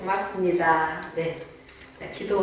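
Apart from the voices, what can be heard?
No distinct noise like a dog, phone or traffic.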